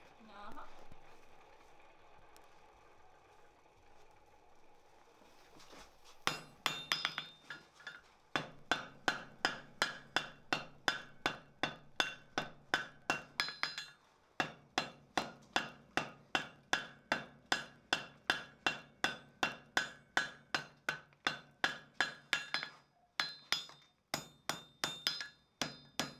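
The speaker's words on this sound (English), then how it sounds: "And then you go to hammering on it before it gets too gross on you and pimply" Hammer striking a hot chain link on an anvil to forge weld it, a long run of sharp metallic blows in quick steady rhythm after a quieter start, close and loud, with talking early on.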